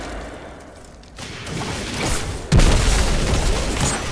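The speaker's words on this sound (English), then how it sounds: "Don't forget you got a grenade too." A grenade detonates in the shooter game Destiny 2, a deep boom rising from a low rumble into a loud, sustained blast with crackling debris, heard up close.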